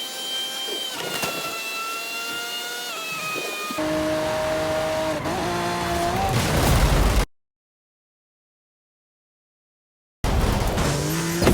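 Tires squeal in a racing video game, loud continuous engine roar with sustained tonal screeches and pitch shifts, broken by a few seconds of dead silence before the racing noise resumes.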